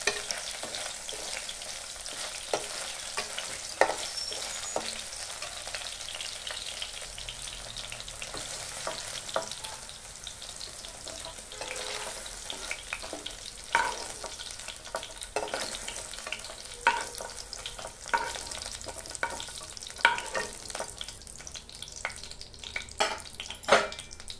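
Paneer cubes fry for chilli paneer with a continuous sizzle, while a utensil scrapes and taps the pan in irregular strokes. The cooking stays close and moderately loud, with no voices.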